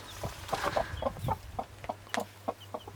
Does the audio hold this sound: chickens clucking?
yes